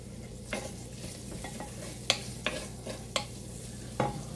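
Sweet potatoes and vegetables cook in a pan with a soft sizzle while a utensil stirs them, scraping and clinking at irregular intervals, close and alone.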